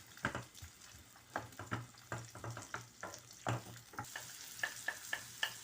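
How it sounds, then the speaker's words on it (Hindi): Onions sautéing in a pan for a potato jalfrezi, a steady soft sizzle broken by repeated scraping and stirring strokes of a spoon, close and fairly quiet, with no talking. "इसे थोड़ा सा मैं सौते कर लूँ"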